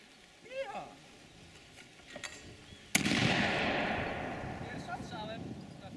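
A black powder shotgun fires once, a sharp loud blast followed by a long rumbling decay, after quieter moments with voices talking before and around it.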